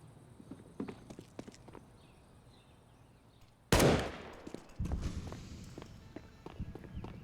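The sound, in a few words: gunshot in video game Counter-Strike, Inferno map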